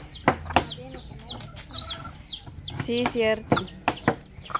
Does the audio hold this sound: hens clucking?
yes